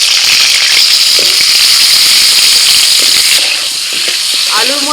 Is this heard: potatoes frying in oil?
yes